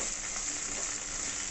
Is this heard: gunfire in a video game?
no